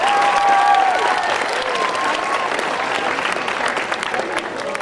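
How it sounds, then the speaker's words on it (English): An audience claps steadily in a continuous round of applause for a tiger that has just climbed, a dense patter of many hands with a few voices mixed in. "Let's give her another big round of applause."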